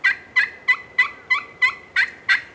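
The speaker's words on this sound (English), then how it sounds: "you're going to get that high front end of the yelp note" A turkey pot call is worked with a striker, producing a loud, close run of eight evenly spaced yelps in a steady rhythm, each note stepping from high to lower, with no talking.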